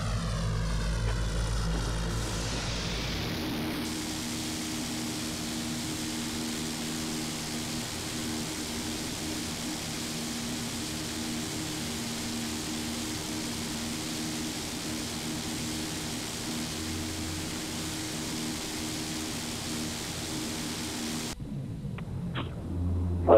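Carenado Fokker 50 turboprop engines running steadily in the P3Dv4 flight simulator, a constant loud propeller drone and rumble with a brief low surge at the start and a cut near the end.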